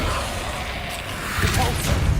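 A Confringo fire spell blasts in the video game Hogwarts Legacy, heard as a rushing whoosh with crackling that swells into heavier bursts toward the end, set against steady game noise.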